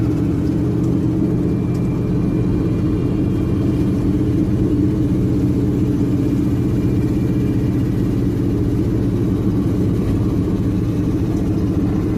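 An engine with a cracked spark plug runs just past idle, a steady low rumbling drone that sounds slightly uneven as it misfires.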